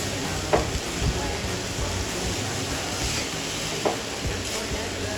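Grated coconut roasts in a pan while being stirred, a continuous soft sizzling hiss broken by a few scraping strokes, close and steady without talk.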